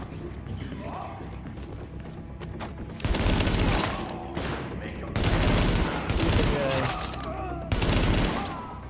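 Automatic gunfire fills The Division video game in repeated loud bursts that alternate with quieter stretches of game ambience and faint mechanical sounds.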